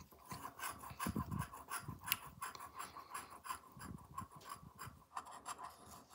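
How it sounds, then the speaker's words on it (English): A coin scratches across a Georgia Lottery Christmas scratch-off ticket in steady, close rasping strokes that come in short bursts, with no talking. "This coin scratches beautifully."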